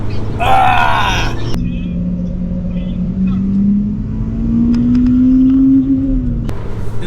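Salvage-tuned Audi A3 2.0 TDI accelerating hard from a launch while racing a Civic Type R, its engine note climbing steadily and droning loudly through the gears for several seconds after a brief shout at the start.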